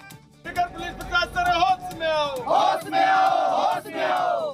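A crowd of people shouting slogans in unison at a ribbon-cutting event, loud and dense chanting voices rising in repeated bursts, close and sustained throughout.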